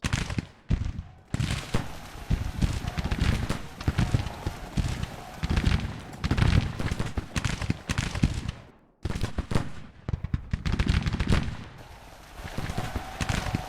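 Volleys of musket and rifle gunfire in a strategy video game battle, dense and sustained crackling bursts close by, with a brief lull partway through and then another barrage.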